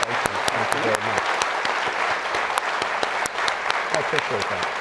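Continuous audience clapping for Chief Justice Roberts at a Georgetown Law School event, with someone talking over the applause at the start and again near the end.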